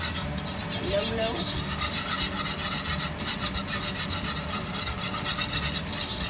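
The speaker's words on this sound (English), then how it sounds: "Best to use the spatula, or sorry, the whisk." A whisk stirs thick cheese sauce in a pot for baked mac and cheese, making continuous close rhythmic scraping and rasping strokes against the pot, with no speech.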